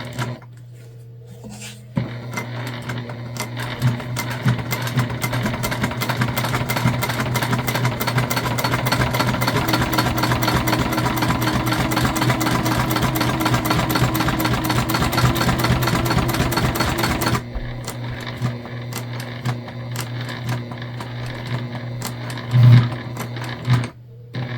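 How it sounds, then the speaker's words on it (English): A sewing machine runs steadily for about fifteen seconds, back stitching a shoulder bag, with a fast, even mechanical chatter and a low motor hum, quieter handling before and after. "Again, we're doing a nice back stitch."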